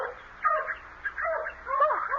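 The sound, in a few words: dogs barking and whimpering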